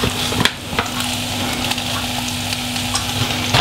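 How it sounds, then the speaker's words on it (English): Cheese sizzles in a hot pan while cheesy pasta is made, a steady frying crackle with a faint tonal hum and occasional sharp scrapes and stirring knocks, close and without talk. "As soon as you start hearing it sizzling, take it off the heat, because you don't want that cheese to burn."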